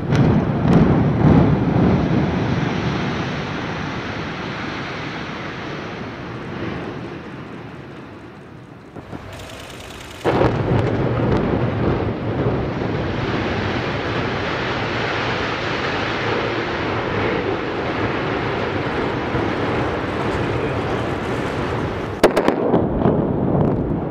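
A 26-floor, 118-meter high-rise in northwest China is brought down with about 1.4 tons of explosives, giving a long sustained roar of blasts and collapsing debris, with a brief break in the middle and a sharp crack near the end.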